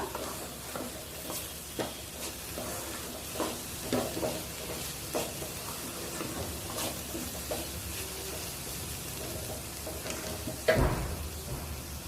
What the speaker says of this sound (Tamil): இப்படியே மீடியமில் வச்சுட்டு 4 நிமிஷம் வரைக்கும் நல்லா வதக்கிக்கிட்டிங்கன்னா நம்ம சேர்த்துருக்க கோஸ் நல்லா சுருண்டு வந்துடும்